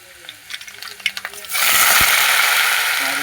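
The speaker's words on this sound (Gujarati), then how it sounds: "હવે આપણે એમાં નાખી દેવું વાસેટીની ભાજી." Light clinks and taps lead into a sudden loud, steady sizzle as vaseti greens hit hot oil with fried garlic, the frying hiss continuing strongly to the end.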